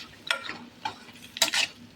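Idli manchurian being tossed in a pan to coat it with masala, giving a few short scraping and clinking strokes over a faint sizzle, close and fairly quiet.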